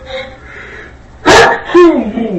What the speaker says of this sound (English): I had to walk away and sneeze one.